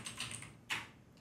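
Several quick, soft taps of typing on a computer keyboard while entering Node.js code, close and faint in a quiet room.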